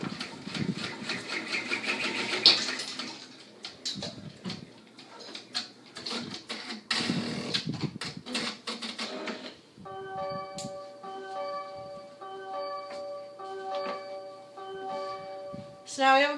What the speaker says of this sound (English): So run your placement stitch and then your machine will stop.